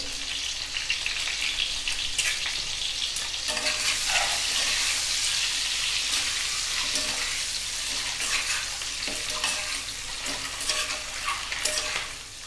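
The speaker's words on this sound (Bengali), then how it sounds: "ডিমটা একটু কড়া করে ভাজবো" Boiled eggs fry crisp in hot oil with turmeric for a dhaba-style egg curry, producing a loud, continuous crackling sizzle close up, broken by spatula stirs and popping spatters, with no voices.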